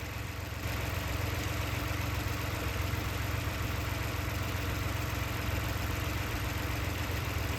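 A Lexus RX450h engine idles with a steady, dense hum and low rumble that holds unchanged throughout, close by and with no voices over it.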